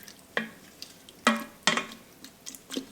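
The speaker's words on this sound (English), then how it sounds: "Now we're going to add broth. And stir." A spoon stirs lentils and broth inside an Instant Pot, making a few separate close scraping and sloshing strokes spaced across a quiet background.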